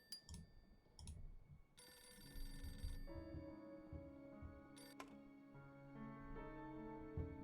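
A telephone rings in the video game Beholder 2, repeated bright electronic ring bursts over a low ticking, murmuring game background, fairly faint overall.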